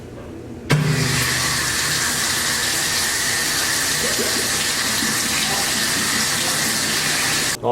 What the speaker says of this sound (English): Well, I'm pretty much stunned that that old faucet actually holds.